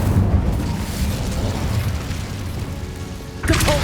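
The Incendio fire spell is cast in the video game Hogwarts Legacy, producing a loud, sustained roaring whoosh of flame with a burst at the end, up close and with no voices heard.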